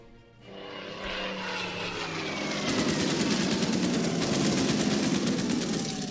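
A Focke-Wulf fighter plane's engine drones steadily in a World War II strategy game. It is a loud, continuous propeller roar that swells after a moment, with rapid gunfire-like rattling over the top.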